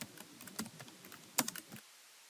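Soft, quick keystrokes on a computer keyboard tap out an irregular burst of presses, a few sharper clicks among them, before falling silent.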